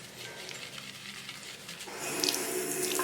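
A makeup brush rinsed under a running tap, a soft steady trickle of water that swells into a louder, splashier stream toward the end, close by and heard alone.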